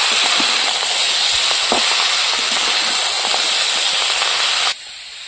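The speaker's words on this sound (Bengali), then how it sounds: "ভেজে রাখা কাঁকড়াগুলোও দিয়ে দেবো। এবার একসাথে সব ভালো করে কষিয়ে নেব।" Crab stir-fried in a pan with chilli powder and greens gives a loud, close, continuous hiss and sizzle, broken by small clicks from stirring, before it suddenly drops off to near quiet.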